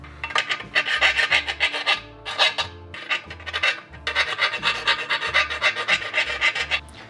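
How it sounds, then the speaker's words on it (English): A hand file rasps in steady back-and-forth strokes against the metal inside edge of a Lexus IS300 rear subframe hole, chamfering it in close, rhythmic bursts with brief pauses between runs. "we're gonna file this inside edge to have a little bit more of a chamfer"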